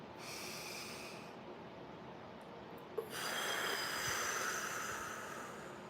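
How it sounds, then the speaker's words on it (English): A deep breath during a guided affirmation session, a long, close, airy inhale followed after a small click by a broad, steady exhale, with no talking. "Let's take a deep breath, y'all."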